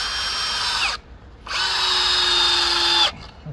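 A power drill whirs into wood in two bursts, a short run then a longer one with a steady pitch, separated by a brief pause, while assembling a garden arbour; close and loud, no talking.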